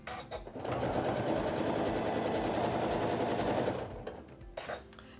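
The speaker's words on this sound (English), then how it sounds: "now we're just gonna finish stitching our 1/4 inch seam allowance all the way down to our starting point" A sewing machine runs steadily for about three seconds, stitching a quarter-inch seam along quilt binding, close and fairly quiet, with brief handling noises before and after.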